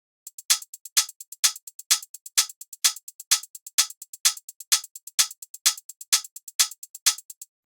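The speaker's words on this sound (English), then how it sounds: "It's the same hi-hats as before, but we muted it on the first half and added it on the second half." Crisp tech house hi-hats tick in a steady, even pattern, with accented open hits on each beat and lighter closed ticks between, bright and dry with no other instruments.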